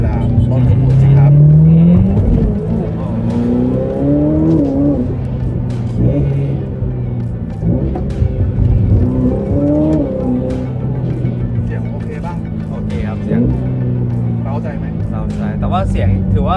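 A Ferrari F8 Tributo's engine hums steadily inside the cabin while driving, rising and falling through revs, with a voice talking over it throughout.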